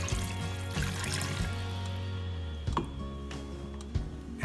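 Wine pours into a pot of beef pot roast with broth, a soft steady trickle and splash heard close and fairly quiet, with a few light clinks and taps.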